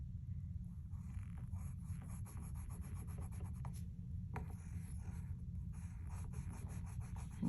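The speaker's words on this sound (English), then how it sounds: "Then you can draw his eyes." Pencil drawing on paper, a dense continuous scratching and rubbing of graphite strokes sketching a cartoon face, close and steady, with brief pauses between strokes.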